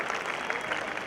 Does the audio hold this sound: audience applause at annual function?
yes